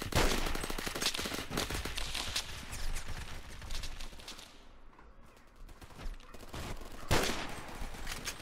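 Continuous rapid gunfire from Roblox Phantom Forces, loud automatic volleys rattling almost without pause, easing briefly in the middle before a sharp shot and more firing.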